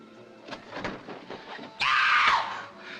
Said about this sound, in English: Somebody screamed.